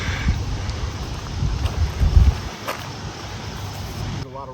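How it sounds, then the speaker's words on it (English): Gusty wind on a windy Montana day buffets the microphone outdoors in low, irregular rumbling surges that peak midway and then ease off. "it's a pretty windy day out here and it's switching every which direction"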